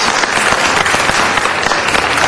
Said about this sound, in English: they should be applauded for their years of service with the great city of Los Angeles